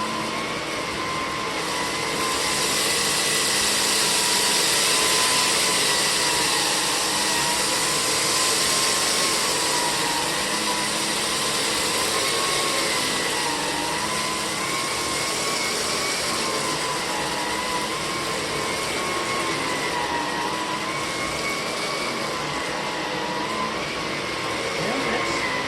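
An Electrolux PN4 power nozzle vacuum running after refurbishment, a loud, steady motor whine and airflow roar with slight wavering pitch, continuous and close throughout.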